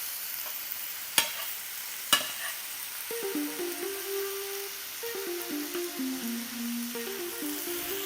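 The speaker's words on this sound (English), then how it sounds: "We're gonna give this a nice little stir to make sure everything is nice and incorporated." Ginger beef stirred and frying in a pan, with a soft steady sizzle, two sharp utensil clicks early on, and background music playing throughout.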